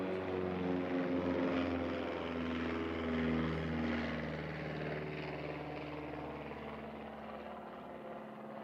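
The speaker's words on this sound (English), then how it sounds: "What a beautiful aircraft." An Air New Zealand airliner takes off at Christchurch airport, producing a loud, steady, droning engine roar with strong low humming tones that hold for several seconds and then slowly ease off.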